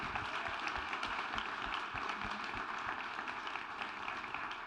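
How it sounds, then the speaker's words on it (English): An audience claps steadily for a women-in-agriculture panel at a wine country event, a faint, even wash of applause from a distance that stays constant throughout. "let's give a round of applause to our panel."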